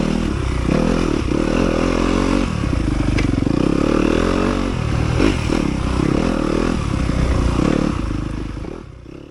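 An enduro dirt bike racing on a forest trail at the Tiger Creek Enduro in Ovett, Mississippi, rumbles close by. The engine revs and labors steadily with some clatter, then fades slightly at the end. Nobody talks.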